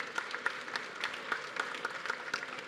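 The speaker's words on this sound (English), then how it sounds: "So please give them a round of applause" An audience applauds the ten startup finalists at a celebration event, steady moderate clapping with distinct individual claps close by, no voices over it.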